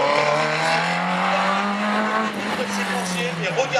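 F2000 race car engine revving at a slalom in Agon-Coutainville, a loud, close, steady engine tone with a rising then easing pitch and some tyre noise, under a commentator's voice.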